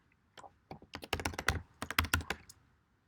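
Close, crisp keystrokes on a computer keyboard as a password is typed: about two seconds of quick, slightly irregular taps with no talking.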